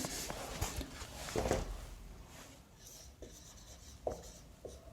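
Writing on a board in an accounting class on cash flow statements: scratchy strokes and small taps up close, uneven in rhythm, with no talk over them.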